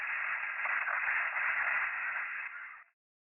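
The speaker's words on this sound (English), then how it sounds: "static noise from my portable radio came alive" Steady hiss of static from a portable radio, close and even for about three seconds before it stops abruptly.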